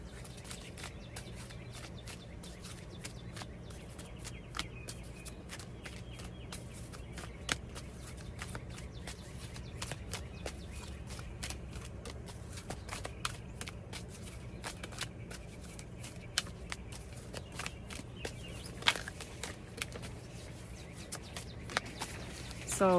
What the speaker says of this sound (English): So as I shuffle for the cards for each pile